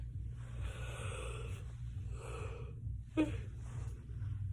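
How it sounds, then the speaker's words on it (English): A long, breathy yawn drawn out over a couple of seconds, with a short huff near the end, over a steady low hum. "sorry about the yawning"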